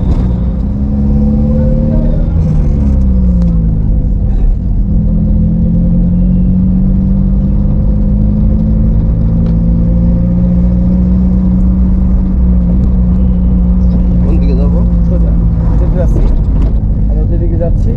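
A manual car driving on a road in second gear, its engine a steady loud low rumble with slowly shifting pitch throughout, with voices talking over it inside the cabin.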